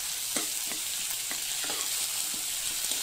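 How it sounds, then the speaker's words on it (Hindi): Tomatoes sautéing in a pan with fried onions and green chili give a continuous sizzle, broken by repeated scraping stirs at an uneven pace, with no voices. "जैसे आप टमाटो ऐड करें एटलीस्ट आप इसे 5 मिनट के लिए सॉटे कर लें"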